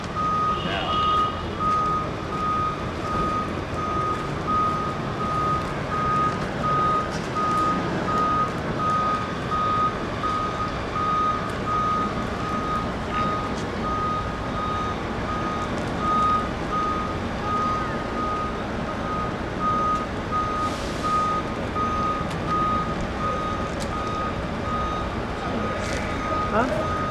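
A truck's reversing alarm beeps steadily in a repeating rhythm through an outdoor Fourth of July concert in a park, heard at moderate distance over crowd noise and people talking.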